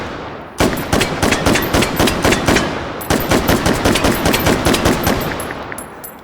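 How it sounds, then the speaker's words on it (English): Rapid semi-automatic M14 battle rifle fire in Call of Duty: Black Ops, two loud bursts of closely spaced sharp shots separated by a short pause, close and alone. "This is not a machine gun. This is meant to be a battle rifle."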